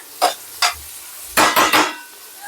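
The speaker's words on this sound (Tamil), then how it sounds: "சேர்த்து நல்லா வதக்கிக்கிறேன் வெங்காயம் வந்து கொஞ்சம் நல்லா வதங்கட்டும்" Onions are sautéed in a pan for a paneer gravy, heard as loud, close scraping strokes of a spoon: two single strokes, then a quick run of three over a faint sizzle.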